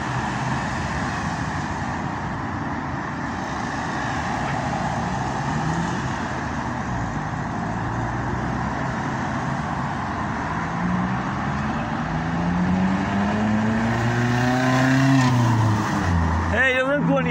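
Busy road traffic in Newcastle, England: a continuous roar of passing vehicles with engine drones rising and falling, one vehicle sweeping loudly past near the end, and voices talking over it.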